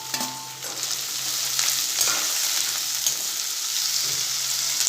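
Chopped vegetables and tomatoes sautéing in a pan for Rajwadi pulao, a loud, close, continuous sizzle with scraping stirs of a spoon heard alone.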